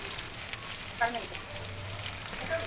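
Chopped onion frying in hot oil with garlic and fenugreek, giving a steady close sizzle throughout with a few faint clinks and scrapes over it.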